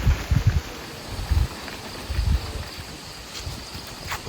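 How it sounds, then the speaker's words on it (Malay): Strong gusty wind buffets the microphone in low rumbling bursts over a constant airy roar outdoors. "Kuat angin."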